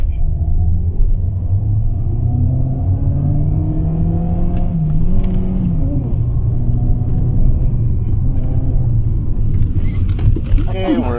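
A Mitsubishi Xpander with a remapped ECU accelerates hard, its loud engine drone climbing in pitch as the revs rise over a constant low rumble of road noise.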